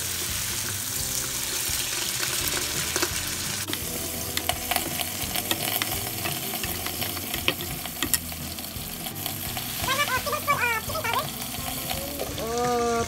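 Water poured into a pan of sautéed garlic and onions for chicken tomatoes, a running splash over steady kitchen sizzling, with clattering utensil clicks toward the end.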